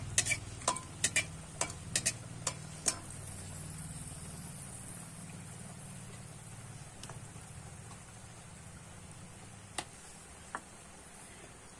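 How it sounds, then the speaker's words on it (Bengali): Whole garam masala, bay leaf and dried chilli fry in oil, a quiet steady sizzle with a cluster of sharp ticks and pops early on, then sparse crackles over a low hum. "ফোড়নটা আমি একটু কিন্তু ভেজে নেব"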